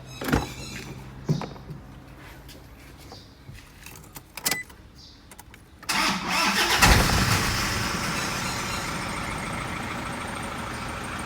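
A Toyota Vigo pickup with a white-smoke fault clicks and rattles with keys, cranks briefly, then starts and settles into a loud, steady close-up idle.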